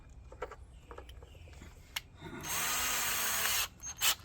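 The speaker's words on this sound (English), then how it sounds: "I didn't drill far enough for the pilot hole" A power drill drilling a pilot hole whirs in one steady burst of about a second, preceded by scattered clicks and light handling noises, followed by short knocks.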